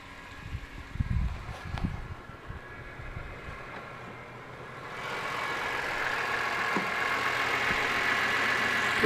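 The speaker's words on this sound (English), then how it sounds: "This engine is as quiet as it can be for an S54." BMW S54 engine idling quietly, a soft, even hum that becomes steadier and somewhat fuller partway through, heard close with no talking.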